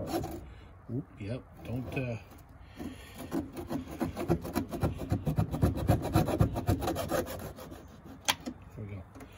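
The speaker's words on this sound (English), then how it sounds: "I do have a hacksaw." A hacksaw cuts through a thick battery cable held tight, its rasping strokes quickening into a steady back-and-forth rhythm up close, with a few brief spoken words at the start and end.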